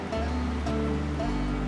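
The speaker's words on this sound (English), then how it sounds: "this river is just unreal. The water's so clear, perfect flows." A clear river flows steadily through a remote gorge, making a close, even rushing wash of water with no voices.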